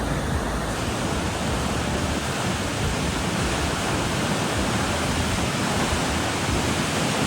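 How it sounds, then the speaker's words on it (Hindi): A swollen river in Manali, running high after a flash flood, roars in a loud, steady broadband rush of churning water that fills the whole stretch without a break. "देखते हैं नदी कैसे उफान पे चल रही है अभी"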